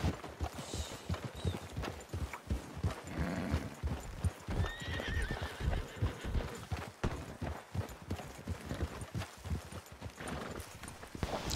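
In Red Dead Redemption 2, a group of horses trot on a trail ride with a continuous, uneven clip-clop of many hooves. Several loud neighs and whinnies break through clearly.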